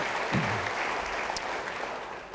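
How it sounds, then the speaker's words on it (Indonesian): A church congregation applauds during a service, a steady, moderately distant wash of clapping that holds for the whole stretch, with a brief voice near the start. "Yang percaya dengan semangat, beri tepuk tangan bagi dia."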